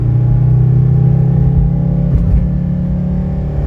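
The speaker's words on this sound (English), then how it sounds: "Let me go ahead and accelerate a little up this hill." A 1983 Mercedes 300D diesel engine drones loudly as the car accelerates up a hill, a steady low rumble heard from inside the cabin with no talking.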